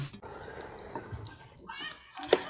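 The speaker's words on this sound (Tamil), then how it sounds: "இப்போ நம்ம தண்ணி கொஞ்சம் சேர்த்துக்கலாம்." Water poured into prawn thokku simmering in a pan, a soft continuous splashing and trickle with a brief louder splash near the end, no talking.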